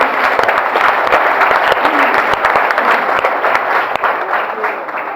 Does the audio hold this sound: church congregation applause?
yes